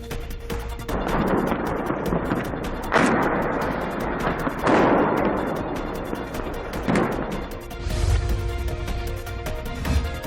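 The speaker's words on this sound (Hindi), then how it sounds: "अजोवस्टल पर समुद्री जहाज के तोपखाने से हमला किया गया था।" Naval artillery shelling of the Azovstal steel plant in Mariupol, setting it on fire: a loud, continuous rumbling roar broken by several heavy booming bursts, with no voices.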